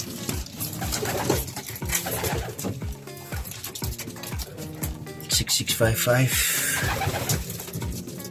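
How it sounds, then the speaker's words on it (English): A young Dutch racing pigeon coos and shifts around in a loft, low rhythmic calls close by, with someone talking over much of it. "This is my Dutch Pigeon, young bird."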